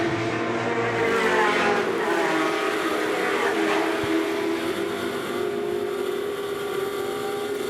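Historic racing cars battle around the Goodwood motor circuit, a field of 28 cars whose engines roar and drone together at a steady distance, layered and continuous without a break.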